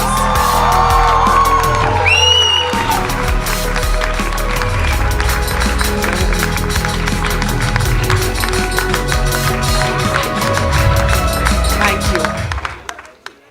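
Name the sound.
hall audience applause and cheering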